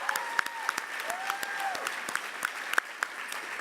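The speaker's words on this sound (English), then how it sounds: "Round of applause." A small audience claps at an awards ceremony, fairly quiet and sparse, with distinct individual claps over a soft wash and a faint tonal sweep in the background.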